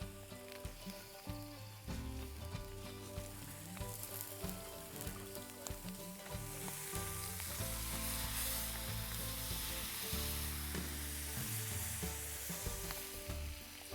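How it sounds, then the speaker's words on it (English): Fish fries in butter in a pan, a dense, crackling sizzle that holds steady throughout at a moderate, close level with no talking. "We're adding more butter and more butter because we're not afraid of butter. Keep the fish moving around so they don't stick."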